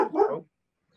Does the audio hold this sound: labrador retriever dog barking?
yes